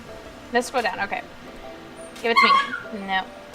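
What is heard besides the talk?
puppy barking and whining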